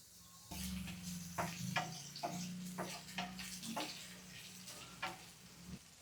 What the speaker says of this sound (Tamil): நல்லா ஃப்ரை ஆகட்டுங்க எண்ணெயில்